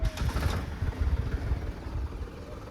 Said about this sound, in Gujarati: તો મિત્રો આપણું ટ્રેક્ટર ચાલુ થઈ ગયું છે